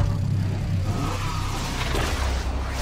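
A game car in Skylanders SuperChargers accelerates with a rising engine whir and rumble, mixed with whooshing game effects. The sound is steady and fairly loud, and no one speaks.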